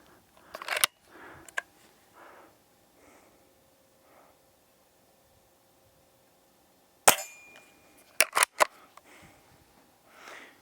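Shots from a Hatsan Model 25 Supercharger .177 air pistol fired at 10 meters: sharp, close cracks spaced apart, with a quick cluster of snaps near the end, separated by quiet stretches with faint mechanical clicks.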